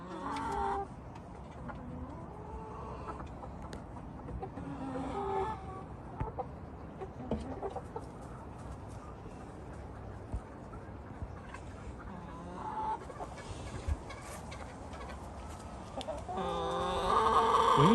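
Backyard chickens clucking and a rooster calling near at hand, steady fowl chatter running throughout with louder bursts toward the end, no talk.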